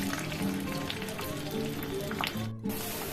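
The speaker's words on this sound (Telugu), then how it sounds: "శనగపప్పు, మినప్పప్పు అన్నీ బాగా వేయించుకోవాలండి." Chana dal and urad dal roast in hot oil for a coconut and raw mango chutney, producing a steady close sizzle with light crackles and brief stirring, cut by a short dropout near the end.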